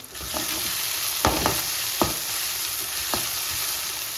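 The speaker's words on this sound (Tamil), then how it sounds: "வெங்காயம் நல்லா வதங்கிக்கிட்டு இருக்குங்க இப்போ நாலு பல் பூண்டு தட்டி வச்சுருக்கேன் அதை சேர்த்துக்குவோம்" Onions and four crushed garlic cloves sauté in a pan for brinjal thokku, a constant close sizzle broken by a few sharp spatula scrapes and stirs.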